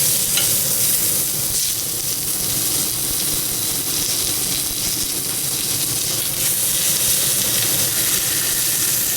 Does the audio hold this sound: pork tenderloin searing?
yes